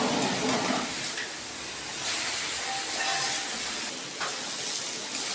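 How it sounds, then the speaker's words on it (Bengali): Cabbage frying gently in a pan on low heat with salt and turmeric, a soft, even hiss that runs continuously at moderate level, with no talking. "আঁচটা কম করে আস্তে আস্তে করে আমি ভেজে নিলাম।"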